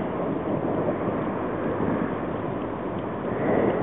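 Wind by a chilly bay while sailing, a continuous rough buffeting roar against the microphone, mixed with a water wash, loud and steady throughout.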